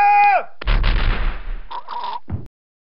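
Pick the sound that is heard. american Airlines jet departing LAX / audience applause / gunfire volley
gunfire volley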